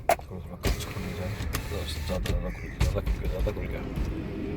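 A car's electric power window motor hums briefly as the glass lowers partway inside a moving car on a long highway drive, under road noise and a voice speaking intermittently.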